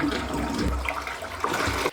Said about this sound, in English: The toilet flushes for now, but it doesn't refill.